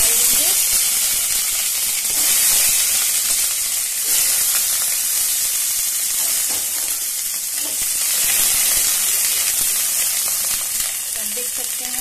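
Cauliflower florets dropped into a hot kadhai set off a steady, loud sizzle and crackle of frying, with faint stirring and steam hiss running continuously under it.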